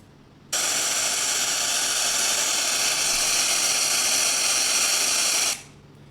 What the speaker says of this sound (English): So let's listen to white noise.